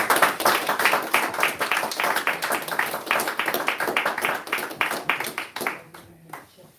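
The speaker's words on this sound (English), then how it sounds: "Give the brother ministers another round of applause." A congregation claps at a temple service, a run of many distinct hand claps that hold steady and then thin out and stop near the end, with faint voices in the hall.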